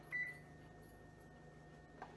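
An oven timer being set gives one short, high electronic beep at the start and a fainter click near the end, heard quietly over a steady low kitchen hum.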